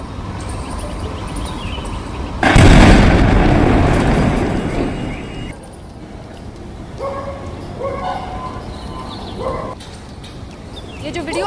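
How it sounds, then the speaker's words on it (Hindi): A sudden loud explosion near a school in Delhi erupts, a broad burst of noise that rumbles for a few seconds before fading into distant background sounds and faint voices. "आप इसमें धमाके की आवाज, इसकी इंटेंसिटी ऑडियो में साफ तौर से सुना जा सकता है।"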